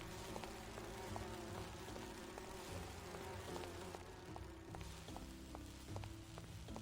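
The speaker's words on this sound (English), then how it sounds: "Oh, these are the sea bees." Sea bees in Grim Fandango drone with a faint, steady insect buzz that hums continuously at low level throughout.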